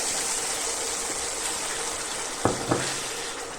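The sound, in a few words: onion-tomato paste being sautéed in a pan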